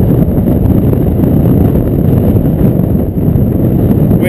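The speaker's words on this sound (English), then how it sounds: "Windy, blowing probably a steady 20-25." Strong wind gusts over a lake during fishing and batters the microphone, making a loud, continuous low rumble that stays unbroken for several seconds with no talk.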